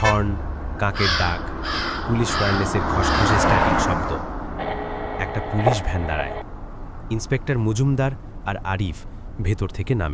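Crow caws in a Bengali horror audio drama scene with distant horns and police radio static, sounding repeatedly under and between narration, with a passing car rumble.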